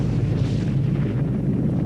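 A volcanic eruption gives a deep, continuous roaring rumble, loud and unbroken, like a sustained blast heard up close.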